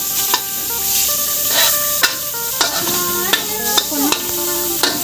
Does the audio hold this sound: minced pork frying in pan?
yes